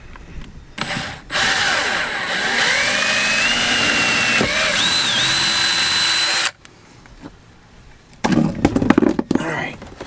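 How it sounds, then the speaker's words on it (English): A power drill bores a hole for steel bolts during an onboard battery charger install. Its loud, steady motor whine runs for about five seconds with shifting pitch as the bit bites, then stops, followed by close clattering and handling noises. "So now I just gotta hold this and drill my first hole"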